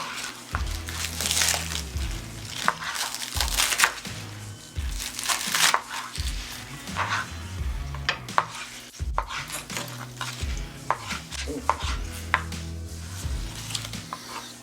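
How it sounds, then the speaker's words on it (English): A knife chops thick slices of tomato on a cutting board for a garden salad, sharp irregular knocks coming in quick clusters, close and fairly loud, with scraping and kitchen clatter between them. "These tomatoes I'm gonna do kind of thicker cut. Yep. I'm just gonna chop this."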